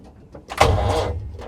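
Sixty-year-old International 6x6 army truck, engine cranking on a 12-volt battery: one short, labored grinding attempt that rises suddenly and holds for about a second without catching, close and fairly loud.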